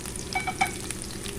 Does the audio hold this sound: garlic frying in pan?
yes